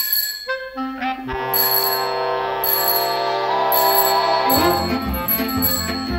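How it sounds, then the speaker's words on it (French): A bright, crystalline bicycle bell rings repeatedly within a French chanson, its metallic rings layered over sustained instrumental accompaniment with a clear rhythmic pattern. "Jeannette avait une bicyclette et une petite sonnette."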